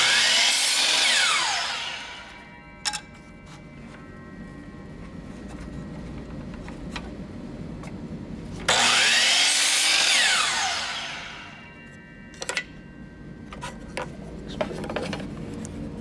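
Power saw cutting wooden pieces for tray dividers, two long loud cuts that wind down, each followed by short knocks and clatter of handling the wood.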